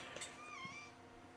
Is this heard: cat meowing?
yes